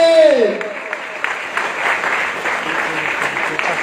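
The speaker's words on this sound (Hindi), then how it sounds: "तालियां रुकनी नहीं चाहिए" A stage audience gives sustained applause for an honoree at a felicitation event. A brief raised voice opens the clip, then dense clapping continues steadily to the end.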